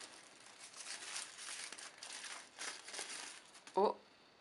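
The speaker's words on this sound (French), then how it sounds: "Je vais d'abord enlever ce papier" Quiet crinkling and rustling of paper being handled, with a brief louder tearing crackle near the end; a voice murmurs faintly underneath.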